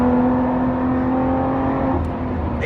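Lotus Evora 410 Sport, a lightweight mid-engined, rear-wheel-drive car with manual gearbox, drones steadily at close range with a sustained engine hum, its pitch dipping slightly near the end.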